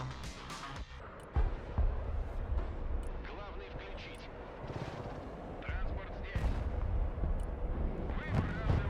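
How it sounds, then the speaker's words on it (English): Cruise missile strikes explode in the Broken Arrow war video game, a rolling barrage of booms and blasts with scattered gunfire, loud and continuous while players talk over it. "You got a lot of cruise missiles coming in."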